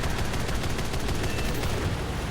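The 30mm cannon of a J7W1 Shinden fighter firing in the War Thunder video game, a rapid continuous stream of loud heavy shots with steady rhythm throughout.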